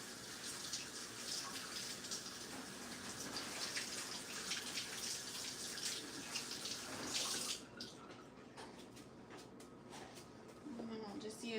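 Tap water runs steadily over duck eggs as they are rinsed in a kitchen sink, a close, continuous splashing stream that shifts and thins partway through.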